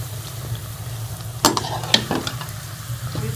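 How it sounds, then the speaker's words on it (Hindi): Homemade papdi fries slowly in hot oil, a low steady bubbling sizzle with a couple of sharp utensil clinks, close and without talk. "देखिए किस तरह हमारी ज़बरदस्ती पापड़ी जो है वो फ्राई हो रही है"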